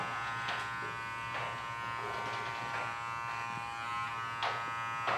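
Electric beard trimmer buzzing steadily close by during a full beard trim in a grooming studio, with a constant motor hum and brief brighter bursts as the blades cut through hair.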